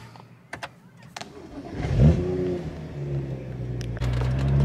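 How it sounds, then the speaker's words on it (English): A tuned BMW 135i engine rumbles and revs up after a few clicks, its exhaust set to aggressive burbles popping close by, with low idle throb continuing. "now we've got it set on the hard burbles, which is an extremely aggressive sound"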